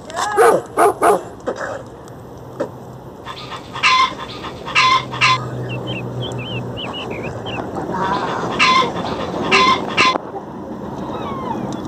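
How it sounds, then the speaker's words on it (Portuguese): A guard dog on a farm barks in sharp bursts, several rapid barks at first and then more spaced ones, close and loud, with birds chirping in the background. "Aqui a gente tem o nosso cão de guarda."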